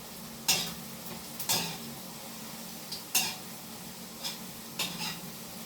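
Wafers fry in a pan under a constant low sizzle, with about six sharp utensil scrapes and clinks against the pan at uneven intervals, close by and without talking.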